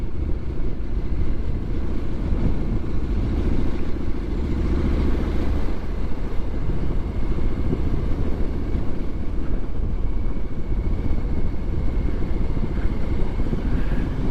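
A Triumph SS 900 motorcycle rides along a lumpy, bumpy road on a sunny day. Its engine drones steadily and loudly for the whole stretch, with a rumbling low hum, no pauses and no voices.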